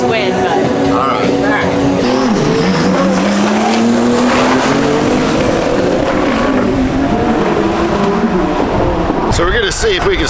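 Drag race cars at the TX2K 2025 drag strip accelerate hard side by side, a loud continuous engine roar climbing in pitch through the gears with tire squeal and a brief shift dip, steady and close throughout.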